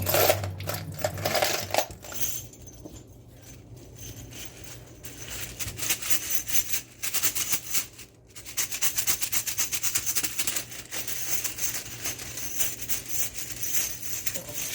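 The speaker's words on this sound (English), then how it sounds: "Place them in a towel, shake it." Brass ammunition cases, still wet from cleaning, are shaken inside a towel, producing a continuous rattling, clinking and rubbing jangle in close bursts, with a brief pause near the start and short breaks midway.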